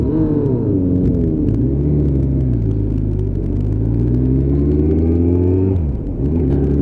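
A Honda VFR motorcycle rides by among a pack of bikes on a group ride, its steady engine drone rising and falling in pitch, loud and close, with a brief dip near the end.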